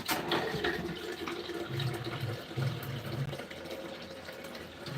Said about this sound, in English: Let me catch some water so the blender not get dry out.